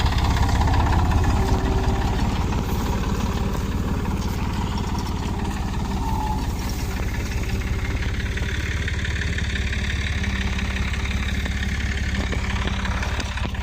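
A Massey Ferguson 240 tractor engine idles steadily throughout, a constant low rumble with faint rattling, no voices.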